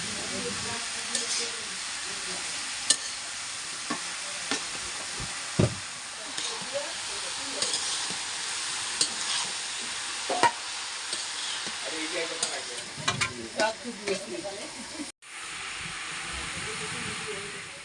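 Spicy food frying and being stirred in a pan in a village kitchen, with a steady sizzling hiss and scattered scraping clicks of the spatula throughout, a brief dropout near the end; faint voices may be present in the background.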